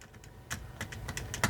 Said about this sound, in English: it is quieter than most other keyboards I've tried